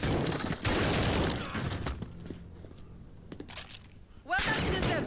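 Bursts of gunfire and impacts in the game Modern Warfare 2019, loud at the start, thinning out in the middle, then flaring up again near the end, with voices talking between the shots.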